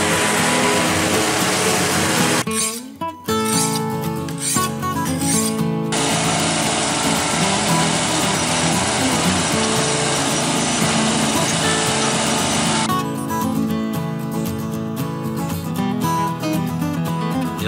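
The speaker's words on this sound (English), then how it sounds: "The only tool you're going to need is a Sawzall." Sawzall reciprocating saw cutting through a rusted car exhaust pipe: a loud, continuous rasping grind with a brief stutter near the start, then a steadier, harsher stretch of cutting before it settles back into rougher strokes.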